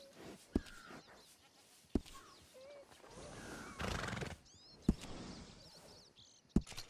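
A horse in the video game Red Dead Redemption 2 whinnies and snorts several times over a soft outdoor ambience, with a few sharp knocks or hoof clops marking the scene, close and clear, with no talking.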